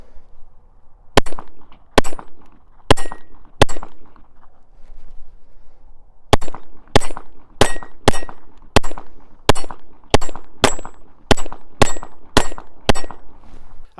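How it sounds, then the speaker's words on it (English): A KelTec P17 .22 pistol firing Remington Golden Bullet rounds, sharp close shots, four at a fairly even pace, a pause, then about a dozen more in quick steady succession, with no talk. "Okay, shooting some Golden Bullet now."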